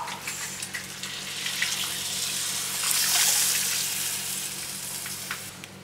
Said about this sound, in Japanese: 水を入れていきます